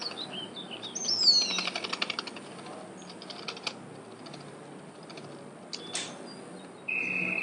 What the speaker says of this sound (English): we've got 3 sparrows sitting inside the nest. Tapping on any of the sparrows makes it fly